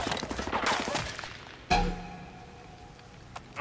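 Enemy gunfire in Ghost Recon Breakpoint: a rattle of shots at the start, then one sharp, loud crack, followed by quieter distant pops.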